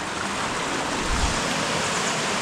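Hidden waterfall in Tiruvannamalai, heard as a steady broadband rush of falling and flowing water, continuous and close with no voices over it.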